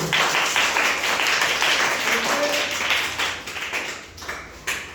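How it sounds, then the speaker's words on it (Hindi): Children clapping their hands together in a classroom, with a fast, dense patter of claps that is strong at first and then thins out toward the end. "अब ताली बजाइए।"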